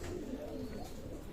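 Young Teddy-type fancy pigeons of a Pakistani breed, kept by a pigeon dealer, give soft, low cooing murmurs close by, steady and unbroken, with no talk.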